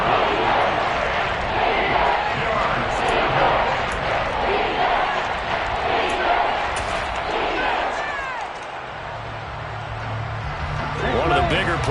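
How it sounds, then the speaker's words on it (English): A large football stadium crowd at a Falcons–Saints game, a loud continuous roar of cheering and shouting that dips briefly and swells again, with a voice talking over it. "The crowd getting into it as we come up on a big 3rd down"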